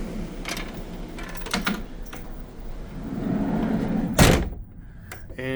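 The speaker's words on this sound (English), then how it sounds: "Let's open up that big sliding door." A big sliding door rolls open with a rumbling scrape across several seconds, topped by a loud clunk near the end as it reaches its stop, then quieter rattles.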